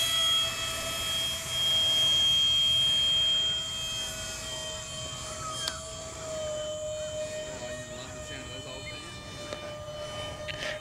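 Dynam ME-262 EDF model jet taking off without flaps, its steady high ducted-fan whine holding level and close, with brief spoken remarks nearby.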